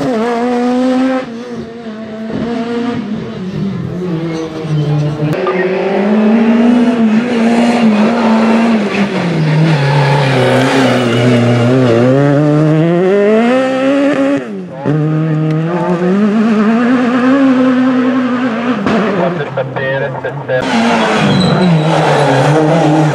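A rally car at Rallylegend, its engine misfiring from spark plug trouble, revs loudly and continuously through shifting pitches with brief drops, close and dominant throughout.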